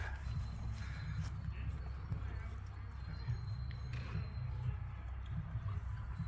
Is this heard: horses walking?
yes